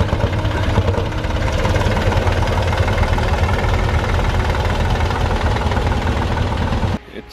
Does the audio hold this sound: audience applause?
no